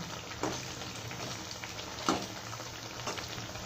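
Ajwain leaf (vamaku) bajji fritters frying in hot oil, a steady soft sizzle with a couple of sharper crackles as they are turned, close and fairly quiet.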